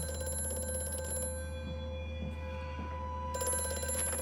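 A telephone ringing in the horror game Amnesia: A Machine for Pigs, an old-style bell ring that buzzes steadily, pauses while a low droning ambience continues, then starts again, fairly loud with no talk over it.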